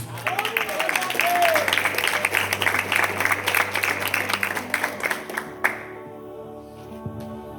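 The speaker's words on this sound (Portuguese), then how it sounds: "Aplauda Jesus." A church congregation applauds during an evangelical service, dense steady clapping with a sustained hum beneath it, then cutting off abruptly to a quieter room.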